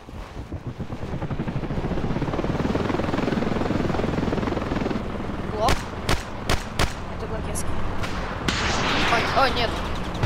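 Aircraft flying overhead in the video game Ravenfield, a steady loud engine drone filling the clip, joined by a burst of sharp gunshots partway through while a player talks.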